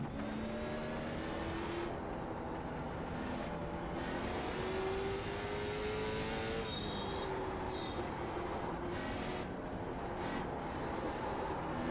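A GT3 race car engine in the iRacing sim-racing game drones continuously, its tone sliding up and down with gear changes and throttle, steady and fairly loud with no voices.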